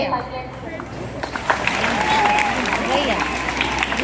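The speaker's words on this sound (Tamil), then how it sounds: "எல்லாரும் சேர்ந்த ஒரு பெரிய கைத்தட்டு" A school audience at a girls' government higher secondary school celebration in Attur claps together in a sustained burst of applause, fairly loud and steady, with voices mixed in.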